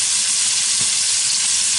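Marinated beef sizzles loudly in a hot pan, a constant close crackling hiss with a faint knock partway through.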